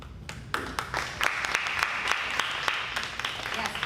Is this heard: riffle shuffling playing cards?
no